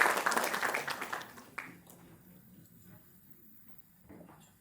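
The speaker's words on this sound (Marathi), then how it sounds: "जोरदार टाळ्या वाजवून त्यांच्यावरती स्वागत करूया." An audience at an award ceremony in Mumbai claps, the applause dense at first and then quickly thinning out and fading to a quiet room within about two seconds.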